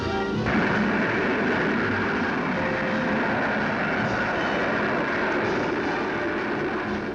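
A rocket sled tearing down a 2.5-mile test track in a safety trial with an ejecting dummy, heard as a continuous loud roaring rumble that holds steady throughout.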